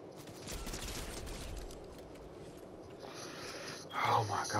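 Scattered gunfire in Fortnite crackles in a fairly faint, distant volley under a low, breathy voice, before a louder, brighter burst of game sound near the end.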